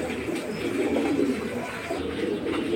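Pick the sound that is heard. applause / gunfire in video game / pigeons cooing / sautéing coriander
pigeons cooing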